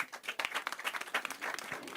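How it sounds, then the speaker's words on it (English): Brief, uneven clapping from a small audience at a live youth talk, with individual claps audible in a quieter, somewhat sparse patter. "Let's clap for all people who have contributed."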